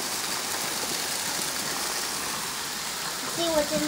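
Heavy rain pours down outside in a steady, dense hiss that fills the whole stretch, with a voice faintly breaking in near the end.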